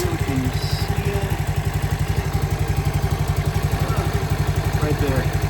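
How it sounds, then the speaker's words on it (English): A small CT70 clone motorcycle engine with a Nibbi carburetor idles up close with the choke off, a loud, even, rapid putter with a steady beat, while a voice talks over it. "It's actually idling with the choke off."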